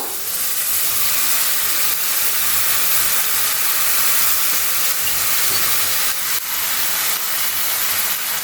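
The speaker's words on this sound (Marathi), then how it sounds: "आता आपण आपला अख्खा मसूर घालूया" Whole masoor lentils tipped into hot oil and spice masala, giving a steady, loud sizzling hiss that runs evenly throughout with no talking.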